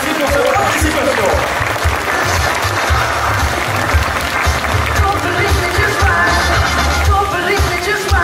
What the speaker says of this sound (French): je pense qu'on peut l'applaudir et la remercier pour sa participation